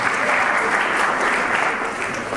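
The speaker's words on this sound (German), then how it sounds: "großen Applaus für Sie" A lecture hall audience at a talk on language and personality breaks into brief, full applause. The clapping is a steady, dense patter with no talk over it.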